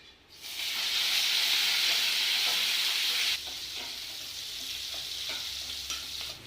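Onions and curry leaves drop into hot oil with popped mustard seeds, bursting into a loud, close sizzle that settles into a steady frying hiss with small stirring clicks.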